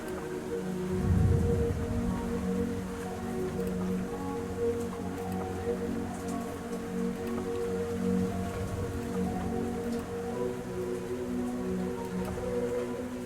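Steady rain falls in the ROAM0120.EXE video game, a dense continuous hiss with a low rumbling swell near the start and a constant droning ambience underneath, no voices.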